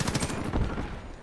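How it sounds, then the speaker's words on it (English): A shotgun fires in Call of Duty: Modern Warfare in a quick cluster of heavy, booming blasts that are loud and close, with no talking. "I shot the shotgun"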